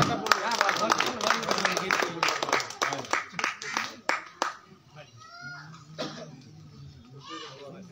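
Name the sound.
audience clapping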